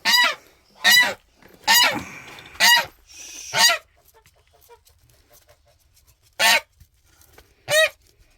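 A goose honks loudly in short bursts, about seven calls with pauses between, near and clear with a quiet background.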